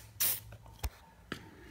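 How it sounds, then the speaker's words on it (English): WD-40 aerosol can spraying onto the seized-prone fuel petcock of a KTM SX or Husqvarna 50cc motocross bike: a loud hissing burst near the start, followed by two short, fainter spray puffs, close and with no talk. "just take some WD-40 and you spray it on the petcock"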